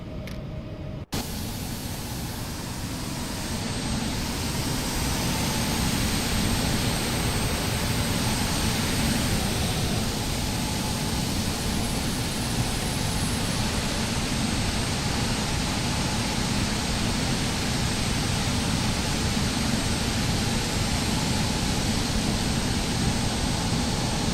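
An Embraer E190 jet engine spools up during its start in the X-Plane 12 flight simulator, heard from outside as a continuous loud roar with a thin high whine that holds steady after a brief quiet opening.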